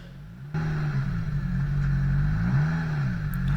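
A Polaris Pro R side-by-side reverses in sand, its engine kicking in abruptly and holding a close, steady rumble with a brief rise in pitch before easing off.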